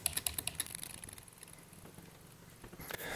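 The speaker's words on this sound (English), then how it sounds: "I will enter BIOS using the delete key on the keyboard." A single key press on a computer keyboard, the delete key tapped to enter BIOS settings, heard as a quick burst of light clicks at the start and a sharper click at the end, faint against low room noise.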